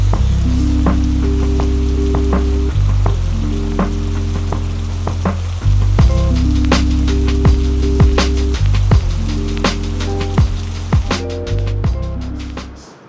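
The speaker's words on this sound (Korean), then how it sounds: "와, 비 진짜 많이 와." Heavy rain pours down outside a car detailing shop, making a dense, continuous hiss and patter that stays loud and close throughout, with no voices.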